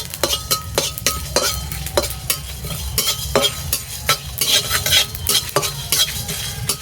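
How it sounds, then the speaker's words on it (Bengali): Whole garam masala dry-roasts in an open pan, a close, rapid series of dry scrapes and knocks as it is stirred, with light clinks and no talking. "গোটা গরম মশলা এটা একসঙ্গে আমি শুকনো খোলা একটু নেড়ে নেব"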